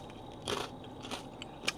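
Crispy battered fried chicken thigh from a downtown Honolulu restaurant is bitten into, producing a few close crunches and crackles in quick succession against a quiet background.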